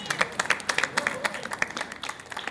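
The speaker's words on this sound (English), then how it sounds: "We can give her an applause." Audience at a school district LCAP meeting claps for a parent leader, a modest, fairly quiet patter of individual hand claps over about two seconds.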